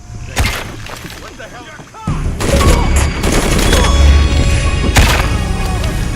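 Gunshots ring out in the Shadow of the Tomb Raider video game. A sharp shot comes early, and louder bangs echo later over game ambience and water sloshing, with someone talking over the action.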